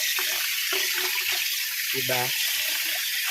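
Tap water runs steadily and loudly while vegetable leaves, sweet potato tops bought from a market, are rinsed under it, with a voice speaking briefly over the rushing stream.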